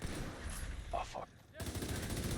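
Bursts of rapid gunfire from a shooter video game land a headshot, loud sharp volleys broken by a brief lull before firing resumes, with a voice talking over the game audio.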